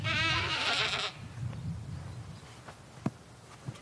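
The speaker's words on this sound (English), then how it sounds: "Oh, you can hear the goats. They're out there." A goat on a farm lets out a loud, wavering bleat lasting about a second, followed by quieter outdoor ambience with a couple of faint knocks.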